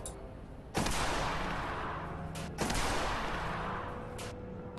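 A large-calibre rifle is fired into a gelatin block simulating a human body, giving two sharp, loud reports about two seconds apart, each followed by a long rumbling decay, with no talk.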